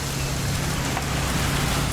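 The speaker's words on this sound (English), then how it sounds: "It's gonna rain the whole weekend, isn't it?" Rain falls steadily in What Remains of Edith Finch, a dense, loud hiss under a low, steady hum, with no one talking.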